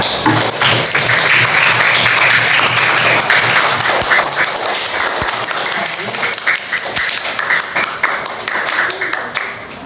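Classroom of primary school pupils clapping at an Islamic elementary school after a group presents its discussion on Quran recitation; steady, dense applause throughout with some talk mixed in.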